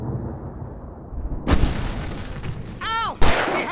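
Gunfire in the video game Alan Wake Remastered: a couple of sharp, loud shots ring out amid a tense game soundscape, with a swooping whistling effect between them.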